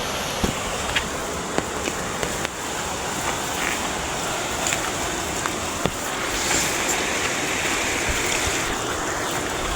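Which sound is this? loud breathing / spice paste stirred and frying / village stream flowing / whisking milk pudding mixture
village stream flowing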